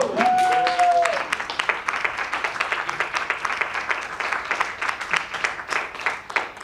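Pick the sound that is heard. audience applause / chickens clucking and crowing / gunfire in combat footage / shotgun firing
audience applause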